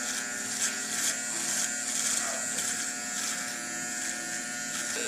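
Electric hair trimmer buzzing steadily during a barber's haircut, cutting hair near the face; a continuous close motor whine with small fluctuations as it moves, no talking.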